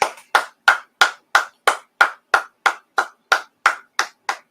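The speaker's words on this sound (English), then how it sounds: "Let's clap it up" A crowd claps in unison, giving about fourteen sharp, loud, evenly spaced claps at a steady rhythm, each one ringing briefly before the next, with no talking.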